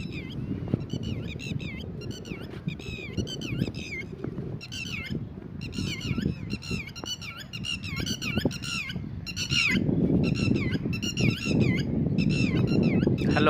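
Red-wattled lapwings give repeated, sharp, squawking alarm calls in rapid overlapping bursts over a steady rumbling background, with the calling growing louder and denser toward the end.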